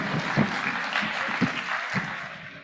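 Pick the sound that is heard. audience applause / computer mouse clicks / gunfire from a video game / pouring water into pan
audience applause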